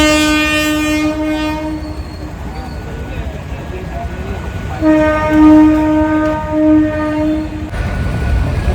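A train rumbles past close by, its horn blaring twice in long tones over the continuous roar and rattle of the cars.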